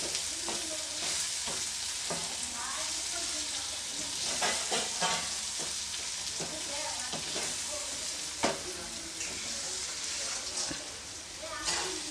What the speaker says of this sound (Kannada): ಇವಾಗ ಇದನ್ನು ಮತ್ತೆ ಚೆನ್ನಾಗಿ ಮಿಕ್ಸ್ ಮಾಡ್ಕೊಳ್ತೀನಿ